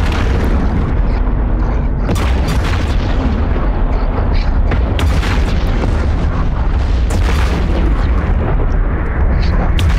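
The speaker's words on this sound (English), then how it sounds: "Let's just blow these up while we're there." Explosions blowing up targets in the space game EVE Online, several deep booms and bursts over a constant roaring engine-like drone, loud and close.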